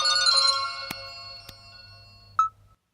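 An electronic phone ringtone plays a bright melodic tone, with a couple of sharp clicks, then stops abruptly.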